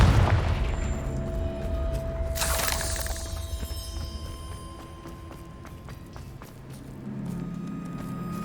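A Confringo spell blasts in Hogwarts Legacy, a sharp crackling explosion with a shattering burst, then lingering rumble and debris under steady game ambience.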